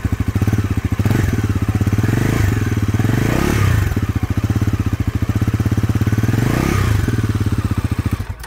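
A 2024 Bajaj Pulsar NS400Z with a 400cc engine idles close by, its exhaust giving a deep, steady, rapid thumping pulse with a mechanical clatter on top, running loud and alone throughout.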